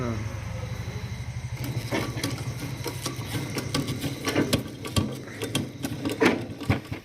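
A sewing machine stitches fabric with a quick, even mechanical patter up close, its motor steady while a voice talks over it.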